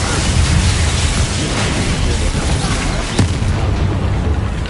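Heavy rumbling blast from the Bombarda spell in Hogwarts Legacy, a dense continuous roar of explosion and debris filling the whole stretch, loud and close, with a brief sharper crack near the end.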